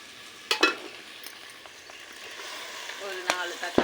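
Onions sauté quietly in a pan for a home-cooked chicken curry, a soft low sizzle with a few sharp utensil clinks and scrapes, close by, alongside brief bits of talk.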